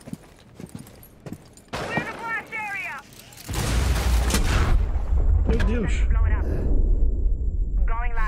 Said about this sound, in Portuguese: Explodiu tudo. Ah, tinha uma armadilha